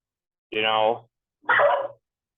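A dog barks twice indoors at home, two loud, close, separate barks about a second apart with silence around them.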